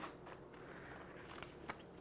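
Scissors snip through paper strips cut from a workbook sheet during a second-grade math lesson on measurement, with several crisp, close cuts over a steady background hiss and no voices.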